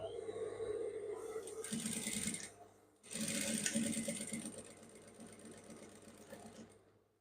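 A sewing machine stitches a trouser seam at a half-inch allowance, running in two bursts with a brief pause between, close and steady, with a faint voice underneath.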